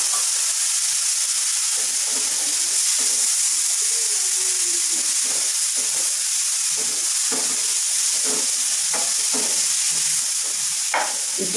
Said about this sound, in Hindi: इसको थोड़ी देर भूनेंगे।